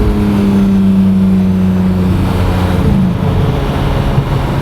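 Lamborghini Murcielago Roadster engine revving outdoors, a loud steady drone with a held low tone that drops away after about three seconds into rumbling idle.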